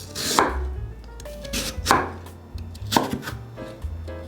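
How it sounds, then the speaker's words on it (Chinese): A kitchen knife chops lotus root into thin strips on a board for a vegan dish, with several sharp, close blade strikes spaced about a second apart and no talking. "先把莲藕排整齐，切成细条状。"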